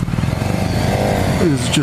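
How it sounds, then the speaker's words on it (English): The inline-four engine of a 2017 BMW S1000 R motorcycle hums steadily at close range under a man's speech, then rises sharply in a quick rev near the end. "The engine sounds so nice. This inline 4, this parallel 4 is just"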